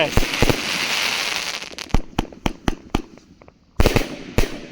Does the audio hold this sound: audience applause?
no